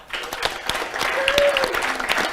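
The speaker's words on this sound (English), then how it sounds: "we want to give him a warm round of applause" A conference audience claps in a short burst of applause, with distinct individual claps over a dense wash and faint voices underneath.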